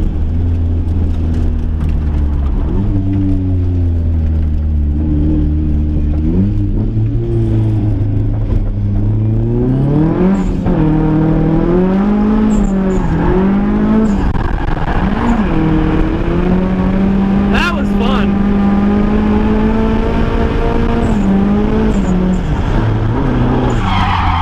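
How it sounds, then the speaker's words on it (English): A drift car attempts a Manji entry at a drift event, its engine howling loud and close throughout with rising and falling revs, tires squealing and skidding under continuous wheel-spin. "I'll try to do like a little bit of a Manji entry over here"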